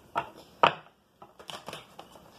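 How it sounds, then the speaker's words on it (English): Tarot cards shuffled by hand, a few sharp riffling snaps followed by a quick run of softer flutters, close up with no talk. "One more shuffle, and we are going to cut."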